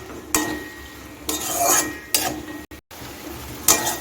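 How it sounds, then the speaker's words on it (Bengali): Spice paste sautéed with potatoes and onions for a Bengali mourola fish curry, heard as intermittent scraping stirs of a spoon against a pan in bursts, with faint sizzling between them. "এখন আমি সব কিছু আলু আর পেঁয়াজের সঙ্গে মশলাটা ভালো করে কষিয়ে নেব"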